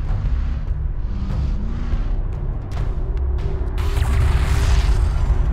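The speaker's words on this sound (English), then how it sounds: "Enemy airstrike inbound." Enemy airstrike in the desert strategy game Homeworld: Deserts of Kharak: low booming rumble with several sharp impacts, swelling into a louder, denser blast toward the end, without speech.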